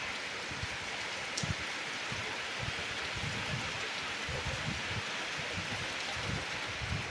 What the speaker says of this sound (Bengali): বিভৎস বৃষ্টি এসছে আবার।